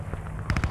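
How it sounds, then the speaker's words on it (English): Automatic gunfire in the World War II shooter Squad 44, near a bridge, with a quick burst of loud, rapid shots starting about halfway in over rumbling battlefield noise. "Careful, they're shooting at you."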